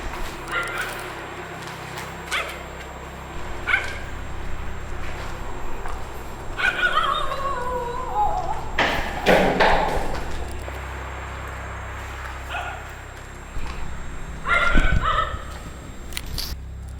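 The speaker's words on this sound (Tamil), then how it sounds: "நாய் சத்தமும் நல்லா கேட்குது" Dogs barking at a distance in an abandoned college at night, several sharp yelping calls spread through the clip, with rustling and footsteps in between.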